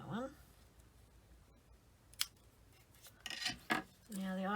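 Scissors snip ribbon on a scrapbook layout, with a few quiet close cuts and small rubbing clicks; someone talks briefly at the start and end.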